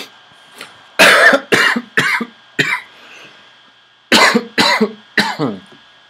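A person coughs hard several times: a rough burst followed by three quick coughs, a pause, then another cluster of three. The coughs are close and loud, with no talking.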